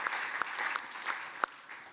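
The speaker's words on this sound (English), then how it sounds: "A round of applause for our first debater." Audience applause at the Brussels Economic Forum for a debater, a steady wash of clapping filling the hall, moderately loud with no voices over it.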